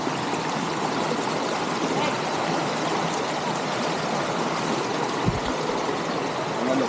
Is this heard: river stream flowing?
yes